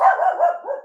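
A single dog barks loudly and close, one short wavering bark trailing into a whine-like tail, set off by a moving truck outside.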